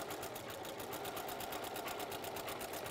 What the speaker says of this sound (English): So I'm just stitching down the sides